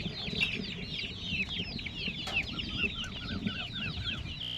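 A flock of native country chickens clucks and chatters continuously nearby, overlapping calls rising and falling in a busy coop.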